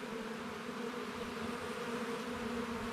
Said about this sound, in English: there's a small swarm of bees coalescing on it as we speak